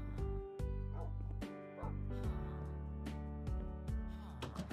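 Dogs in the Minecraft video game give several short barks and yips at irregular intervals. They play over steady game music and are fairly loud and close.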